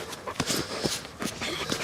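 A working service dog in a canine unit pants in short, quick breaths, with soft scuffling and movement around it at close range.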